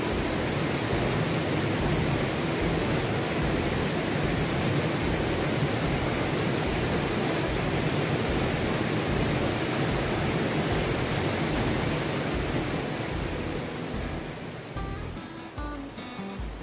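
A shallow, low-flow river winding through a forested valley at Kaliandra produces a steady, full rushing wash of water that continues evenly and eases slightly at the very end.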